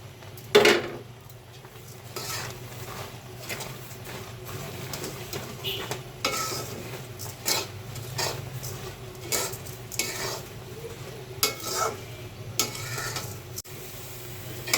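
Flattened rice (chira) is stirred into hardened jaggery syrup in a pan for moya sweets, with a soft background sizzle under repeated irregular scrapes and knocks of the stirring utensil, moderately close.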